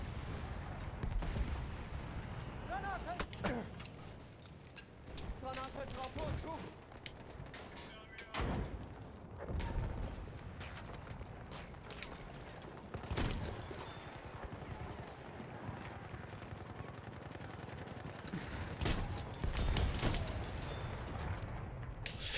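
Model 10 pump-action shotgun blasts in Battlefield 1, several sharp loud bangs at irregular intervals amid battlefield clatter and distant gunfire, with a voice talking at times.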